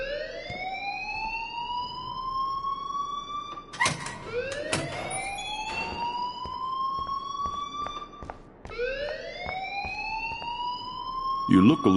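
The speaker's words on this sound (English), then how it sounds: "please turn off that alarm" Fire alarm ringing inside the video game Life is Strange: repeated rising siren-like wails in a steady cycle, fairly loud, with a sharp burst near the end.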